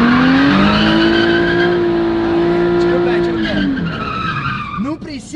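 A drift-prepared Nissan 350Z spins donuts, its tires letting out a loud, sustained squeal over the engine for several seconds before the sound breaks up and fades.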